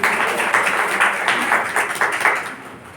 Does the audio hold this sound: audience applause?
yes